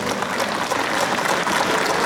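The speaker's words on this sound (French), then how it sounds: "On peut les applaudir" At the Epoqu'Auto classic car show, the audience applauds the volunteer cashiers with a brief, steady wash of clapping that fills the whole moment evenly without breaks.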